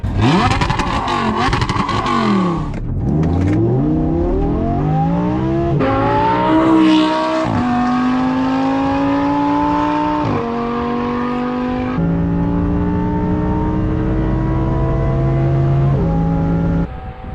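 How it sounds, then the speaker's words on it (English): A Chevrolet Camaro ZL1 sports car makes drag runs, its engine loudly revving and accelerating up through several gears with rising pitch and brief drops at each shift, close by and without talk. "That is such a beautiful sounding car."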